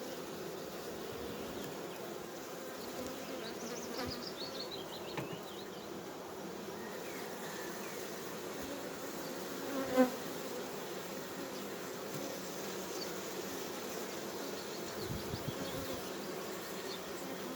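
A springtime beehive hums with bees buzzing steadily around it, a dense continuous drone with individual insects passing close, plus a brief sharp knock near the middle.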